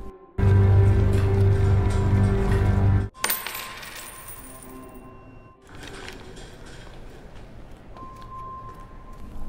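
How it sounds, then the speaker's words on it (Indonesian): Coins are dropped onto a hard floor in a busy hospital, a sudden bright metallic clatter that rings and settles briefly after a loud hum cuts out, with faint room noise trailing afterward. "Lalu mereka melihat ada orang menjatuhkan uang koin"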